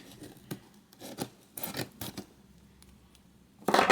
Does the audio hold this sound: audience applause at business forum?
no